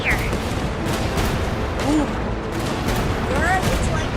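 Cannon blasts in a Genshin Impact Archon Quest battle, with booming shots amid busy game music and effects, plus short whistling tones over a steady loud background.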